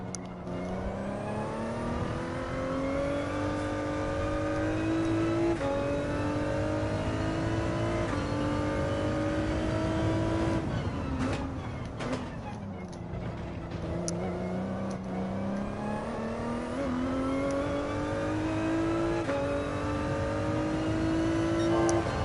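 A race car engine screaming at high speed in the racing game Gran Turismo 7, loud and continuous, its pitch climbing and dropping through gear changes, with no talk over it.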